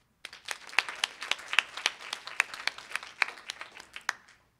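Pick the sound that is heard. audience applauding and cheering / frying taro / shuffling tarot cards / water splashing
audience applauding and cheering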